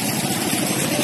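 Motorcycle engine running just after being started: a dense, steady, loud rumbling drone with no break over one second, close by, with no talk.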